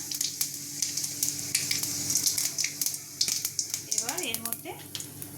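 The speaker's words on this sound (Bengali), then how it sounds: "কড়াইতে তেল গরম হয়ে গেছে এবার এর মধ্যে দিয়ে দেবো গোটা শুকনো লঙ্কা আর পাঁচফোড়ন" Whole dry red chillies and panch phoron hit hot oil in a kadai for a sweet-sour mango pickle, crackling and sizzling steadily with sharp pops, while a voice speaks briefly over it.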